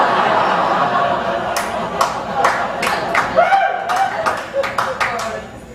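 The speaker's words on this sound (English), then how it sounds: "I appreciate you guys applauding and everything" Scattered clapping and chuckles from a comedy club audience at a stand-up show, sparse and uneven, mixed with murmuring and a voice or two talking over it.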